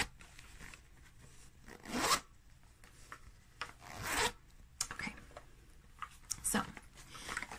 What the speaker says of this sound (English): I know some people like zipper sounds.